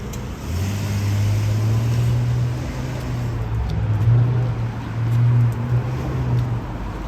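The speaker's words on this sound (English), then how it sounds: "Cool guy to have such a loud exhaust." A car with a loud exhaust passes in Vancouver street traffic, its low engine rumble swelling and fading over several seconds, fairly close and prominent against the roadway background.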